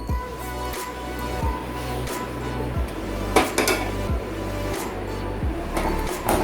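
Repeated scraping and clinking of a utensil against a pan as white sauce pasta with fried vegetables is stirred, steady rhythmic strokes close up, with no talking.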